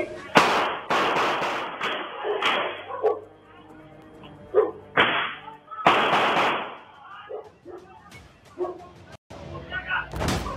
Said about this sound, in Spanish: 15 disparos. Un cargador entero.